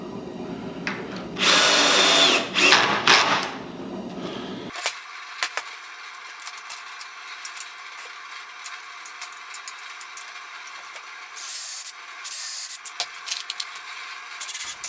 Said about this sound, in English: this Bosch drill is the best drill I've ever owned.